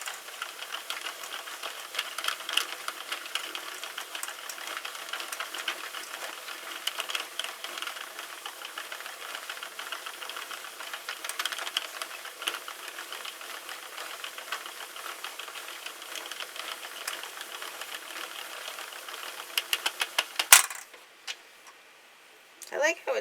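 A Sentro knitting machine cranks LBY chenille yarn with a steady, close ticking and ratcheting clatter that runs continuously and stops abruptly near the end.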